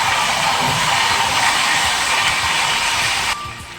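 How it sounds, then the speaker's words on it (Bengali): An express train between Shalimar and Puri rushes along at speed at night, a loud, dense roar and hiss of wheels and carriages, heard from inside, easing slightly near the end. "যতই রাত বাড়ছে ট্রেনের গতিও বাড়ছে, তার সাথে সাথে আওয়াজও বাড়ছে।"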